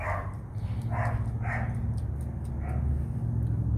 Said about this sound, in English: That is not my dog.